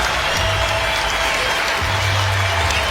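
A basketball crowd at UB's Alumni Arena rises in a standing ovation for five seniors on their home senior night, with dense, sustained applause filling the arena and commentary faintly beneath.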